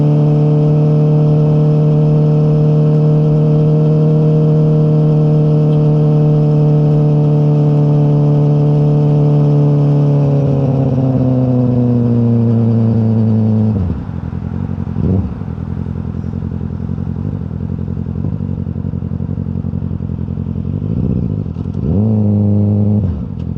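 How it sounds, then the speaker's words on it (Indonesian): A Yamaha R6 sportbike's exhaust roars inside a tunnel in Korea, a loud sustained engine tone that drops in pitch as it eases off, then blips and revs briefly near the end, echoing and close. "kalau di terowongan itu karena suara knalpot kita itu bisa 2 kali lebih gede ya"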